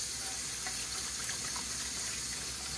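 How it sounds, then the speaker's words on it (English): A kitchen tap runs steadily as hands are rinsed under the stream, a continuous close hiss of splashing water with no pauses and no talking. "Let me rinse my hands off."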